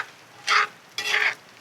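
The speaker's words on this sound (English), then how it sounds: "I'm just going to kind of continue to stir it a little bit and let it cool." Two short scraping stirs of coconut milk sauce in a cast iron pan over a campfire, each a brief soft swish with a pause between, close and alone.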